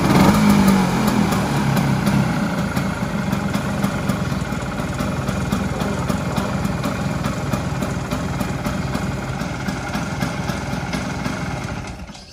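A Vespa VNB1 scooter's small two-stroke engine idles close by, a steady, slightly uneven putter that holds for about twelve seconds, then drops away at the end.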